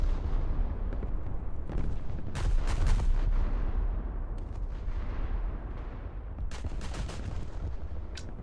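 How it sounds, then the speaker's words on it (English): AI-controlled ship turrets firing in a naval combat video game, heavy booming cannon shots in an irregular series over a constant low rumble, with the loudest blasts clustered midway and more near the end. "Why the fuck the turrets that I wasn't controlling decided to shoot?"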